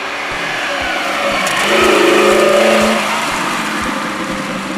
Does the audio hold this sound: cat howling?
no